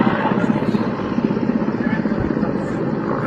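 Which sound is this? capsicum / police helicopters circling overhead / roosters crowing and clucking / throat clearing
police helicopters circling overhead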